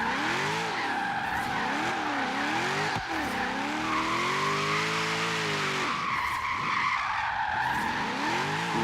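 A drift car jump drifts through an intersection during a qualifying run, its engine revving and wavering continuously as the tires squeal and skid, loud and close throughout.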